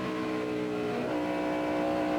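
A race car engine at the Glen blips and drops pitch as it downshifts to second gear, a loud, sustained, harmonic roar of a single car with no talk.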